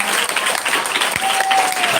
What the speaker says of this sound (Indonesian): Nah, tepuk tangan untuk Ikra dong.